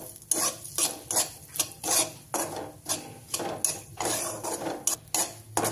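Poppy seeds being sautéed in ghee in a pan are stirred with steady, rhythmic scraping strokes, close and clear, with no talking.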